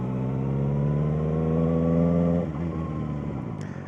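A motorcycle engine drones steadily and builds slightly as the clutch is released and the bike pulls away, then the note drops and fades. The sound is close and clear, with no talking.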